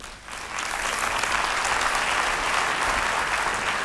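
Sustained applause from a conference audience at a management event in Madrid, starting abruptly and holding steady at full strength without any talk.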